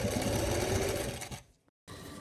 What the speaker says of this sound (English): you're going to stitch it around the neck line